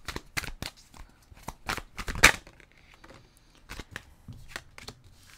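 Tarot cards being shuffled and drawn by hand: quick crisp riffles and flicks in bursts, close and fairly loud, with no talking.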